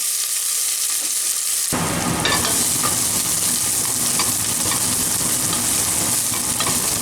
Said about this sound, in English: and then you're gonna add the cut onion. It's a diced onion up there. So you're gonna saute up